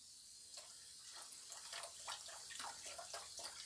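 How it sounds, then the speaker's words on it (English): Vegetable stock pours into a cooking pot for Cajun-style rice and chicken, a faint, close, continuous splashing trickle with small irregular gurgles throughout. "this is my vegetable stock. I'm going to add that in."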